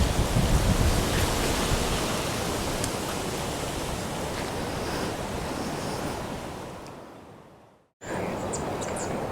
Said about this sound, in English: it's been incredibly windy